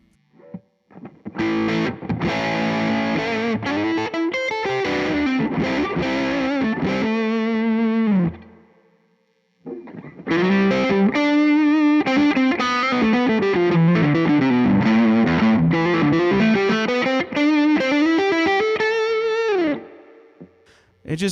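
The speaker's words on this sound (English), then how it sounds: "Another way you can use one is as a lead boost for a distortion pedal" A heavily distorted electric guitar played through a distortion pedal with a clean boost as lead boost, riffs and sliding notes, loud and sustained, in two phrases separated by a brief pause.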